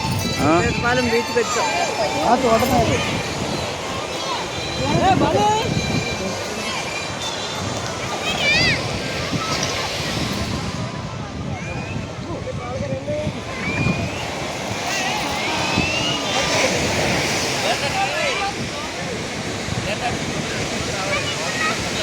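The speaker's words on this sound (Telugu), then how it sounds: "సీతపాలెం బీచ్కి వచ్చాం." Waves and wind at Seetapalem beach near Achutapuram: a continuous broadband roar of surf with gusty wind noise, with people talking in the background.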